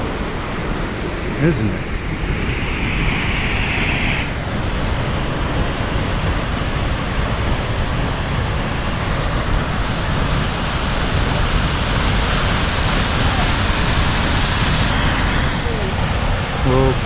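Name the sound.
Wailea Falls waterfall on Kauai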